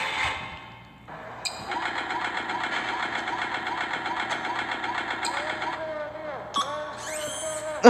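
A video-game vacuum runs with a steady whirring, buzzing drone for several seconds, with brief whistling rises and a chirping sweep near the end, while people talk.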